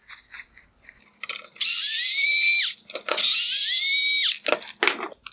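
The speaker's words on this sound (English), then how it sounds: "Next, I'm going to remove 2 T20 Torx screws." A power screwdriver backs out two T20 Torx screws from a 2006–2011 Mercedes-Benz CLS xenon headlight, two loud whirring bursts of about a second each, framed by clicks and handling noises, with no talking.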